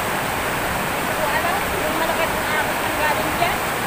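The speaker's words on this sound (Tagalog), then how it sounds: "Madalas po dito ang bagsak ng tubig." Floodwater released from a dam rushes in a steady, dense roar through flooded streets in Milaor, Camarines Sur, a continuous close wash of water with no clear breaks.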